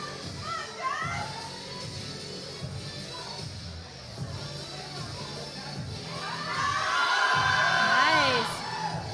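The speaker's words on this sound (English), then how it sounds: "right next to us is a big crowd for Jess" A big crowd at a powerlifting meet cheers and shouts for a lifter, voices building into loud whoops and applause near the end, with chatter throughout.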